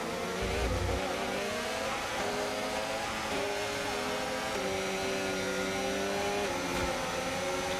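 F1 race car engines in the F1 25 game scream under acceleration after a virtual safety car period, a high, continuous whine rising in pitch through several upshifts, loud and close throughout.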